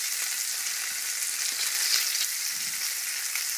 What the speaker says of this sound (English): Alright, so I hear a nice sizzle and that's what I want.